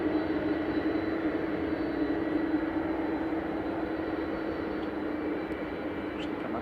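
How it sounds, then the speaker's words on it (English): An easyJet Airbus A320 departing Manchester Airport for Jersey gives a steady, distant jet engine roar with a constant hum, holding level throughout with no talk. "EasyJet off to Jersey, GEZOP flight 2729, Airbus A320."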